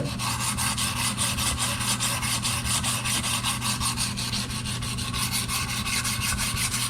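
A boning knife is drawn steadily against a sharpening stone with firm pressure, giving a continuous close rasping scrape in a quick repeated rhythm across the whole stretch, with no talking.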